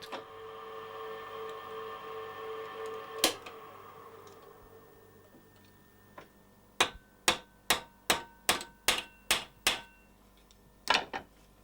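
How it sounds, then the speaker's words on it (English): Rivets hammered on a live steam model locomotive: after a faint mechanical hum and one sharp strike, a quick run of about ten crisp, evenly spaced metallic hammer blows rings out close, then a final double tap. "This often means hundreds and sometimes thousands of holes drilled and riveted before the work"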